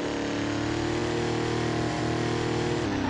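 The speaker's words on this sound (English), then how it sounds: "I think this is a Dodge Durango." A 2021 Dodge Durango's engine in Roblox Greenville RP drones steadily at a sustained rev, loud and close, with a slight dip in pitch near the end and no voices.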